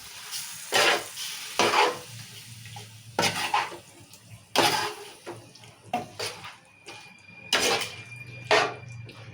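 Masala frying in a hot pan for chicken biryani gives repeated bursts of stirring and sizzling, several loud scrapes at a steady rhythm over a low hiss, with no voices.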